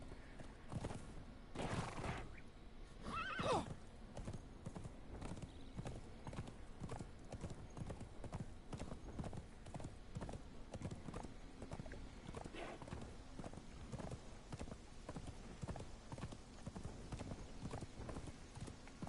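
Horse hooves clop in a steady walking rhythm in Conan Exiles, with a short neigh near the start; the hoofbeats continue evenly and fairly quietly.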